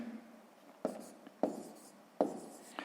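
Numbers are written by hand on paper during a math exercise: soft scratchy pen strokes in three short, distinct bursts, quiet and close, with faint scribbling between them.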